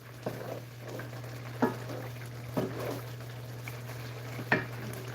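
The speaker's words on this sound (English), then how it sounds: "Just stirring, making sure nothing sticks to the bottom" Turkey pot pie filling stirred in a pot, giving a few faint, scattered spoon scrapes and knocks over a steady low electrical hum.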